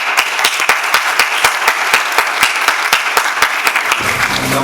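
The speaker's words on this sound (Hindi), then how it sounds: "तालियां हो जाए प्लीज।" Applause rings out during a stage play, sharp, fairly regular claps from a few hands sounding close and loud, ending as a low musical tone enters.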